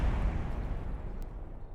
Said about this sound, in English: Spectacular explosions!